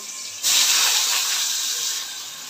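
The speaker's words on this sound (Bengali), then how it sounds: "তেল গরম হয়ে গেছে, আলুগুলো দিয়ে দিলাম।" Potatoes dropped into hot oil in a kadai, a loud hiss that bursts in suddenly and holds steady, then eases slightly toward the end, close up with no voices.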